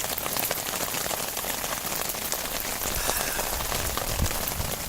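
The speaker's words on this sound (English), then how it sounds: "Luckily, it's only just started raining, you know, since I've been awake" Rain falls steadily on a tarp shelter at a beach camp, a dense, even patter of drops close overhead that continues without a break and with no talking.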